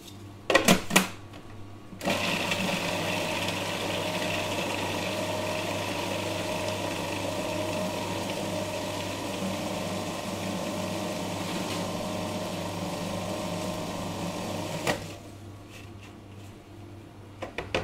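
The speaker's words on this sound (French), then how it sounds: "Ensuite, je vais mixer le tout." A food processor blends a mixture of herbs, including stems and flat-leaf parsley, seasoned with salt and pepper. Its steady motor whir runs loud and unbroken for about thirteen seconds, with brief clattering handling noises before it starts and after it stops.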